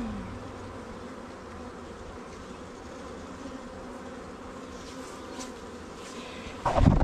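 Honeybees swarm around a hive box in a garden, giving a continuous, even buzz that holds steady for several seconds before a sudden louder knock or rustle at the end.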